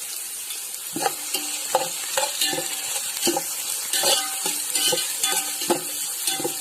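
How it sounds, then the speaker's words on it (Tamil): Green chillies and onions sauté in a pan, a continuous sizzle with rhythmic spatula scrapes and taps against the pan roughly every half second, close and moderately loud, no voices. "வெங்காயம் நல்லா வதங்கணுமா."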